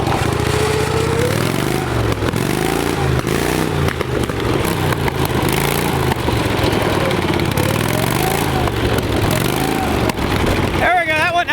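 Ford garden tractor with a rigged Kohler Command engine roars loudly and continuously as it pops a wheelie, the engine pitch rising and falling with throttle throughout.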